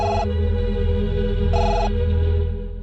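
A telephone rings indoors with a loud, bright bell in two clear bursts separated by a pause, with no talking.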